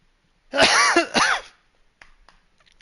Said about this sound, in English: It's just my cough I have.